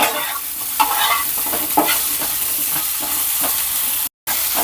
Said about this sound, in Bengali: খুব ভালো করে আমি আলুটাকে ভেজে নিচ্ছি